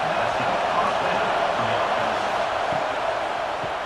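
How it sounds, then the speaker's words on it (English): A dense stadium crowd roars continuously in the College Football 26 video game during an Ohio State at Washington simulation, a loud, steady wash of cheering noise with no distinct breaks. "this crowd imploring its defense to stand firm."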